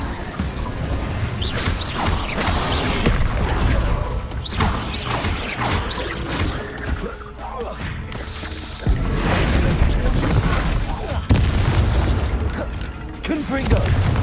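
In the Hogwarts Legacy video game, the Incendio fire spell is cast amid combat, giving a chaotic run of whooshing bursts, crackling impacts and mechanical clatter that hits in uneven waves, loud and close, with a voice talking over parts of it.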